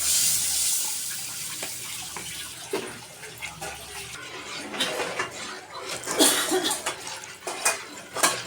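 Dal (lentils) being added to a pot of salted, cumin-paste masala while cooking, giving wet splashing and sloshing with a few clinks of the pot, growing louder toward the end.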